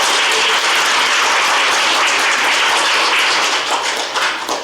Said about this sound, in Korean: 여러분 큰 박수로 환영해 주시길 바랍니다.